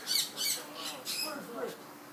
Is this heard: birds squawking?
yes